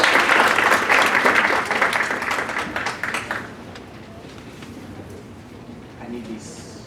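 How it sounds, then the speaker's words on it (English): An audience at a student leadership scholarship orientation applauds a speaker, loud and dense at first, then thinning out and fading to a few scattered claps. Faint room noise and a brief voice follow. "Let's just give him a round of applause"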